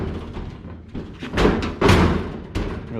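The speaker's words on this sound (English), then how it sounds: "really slam it to get it shut" A car door with a sticking fit being forced shut, heard as a few heavy thuds and a loud slam near the middle, with scraping and handling noise around them and no speech.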